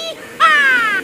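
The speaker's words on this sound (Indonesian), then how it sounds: "Dan ada ayam berkokok" A rooster crows once, loud and close, a short cry followed by a long drawn-out harmonic call that holds steady before cutting off.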